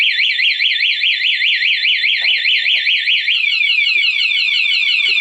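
Loud anti-theft alarm on a Honda Wave 125i motorcycle wailing in a rapid rising-and-falling siren pattern, then shifting to a choppier tone, with a few faint knocks beneath.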